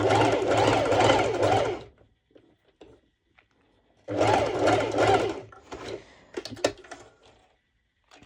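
A domestic sewing machine stitches pole dance bottoms in two loud, rapid bursts of about two seconds each. Quieter clicks and handling of fabric and machine come between and after the bursts.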